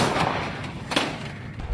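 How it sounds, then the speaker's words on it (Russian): A Rapira 100mm anti-tank gun fires during shelling, a loud single blast near the middle standing out from a dense, noisy outdoor background. "Выстрел! Рапира 100 мм."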